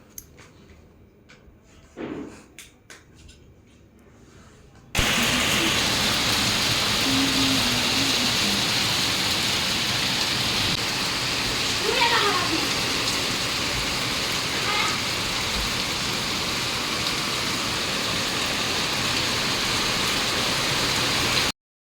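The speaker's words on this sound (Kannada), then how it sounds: "ಮಳೆ ಎಷ್ಟು ಜೋರಾಗಿ ಬರ್ತಿದೆ ಅಂತ" Heavy rain pours down steadily in Chitradurga, India, as a dense, loud roar after a brief quieter stretch with faint knocks at the start; it continues without letup until the end.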